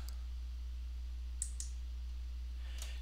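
A computer mouse clicks faintly, about three or four sharp, isolated taps spread out over a steady low hum, while colors are edited in a weaving draft program.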